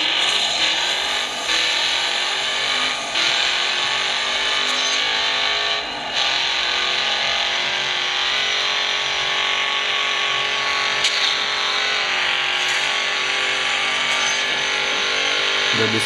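Continuous engine and road roar from a street race in the mobile game Need for Speed Most Wanted, played on a Xiaomi Mi3 phone: loud, steady, and unbroken for the whole stretch, with a few brief dips and swishes.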